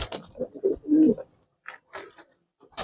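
Racer pigeons coo in low, throaty bursts close by, a few rolling calls followed by quieter murmurs and soft shuffling.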